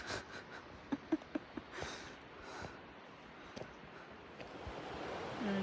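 Glacier-fed river by a quiet trail near the Saskatchewan Glacier, a steady broadband rush of flowing water close by, with a few sharp footstep-like knocks and light wind over the top.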